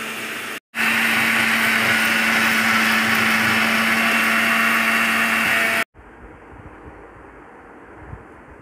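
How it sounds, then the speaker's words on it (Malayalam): An electric mixer grinder powders roasted rice with a loud, steady whirring roar and a high motor whine. It stops briefly after a short start, runs for about five seconds, then shuts off, leaving a low hum. "വറുത്ത അരി ഇതേപോലെ മിക്സിയിൽ നന്നായിട്ട് ചെറിയ രീതിയിൽ പൊടിച്ചെടുക്കണം"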